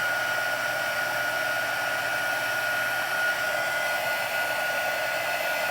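A heat embossing tool blows a loud, steady hot-air whir without pause while melting Deco Foil powder.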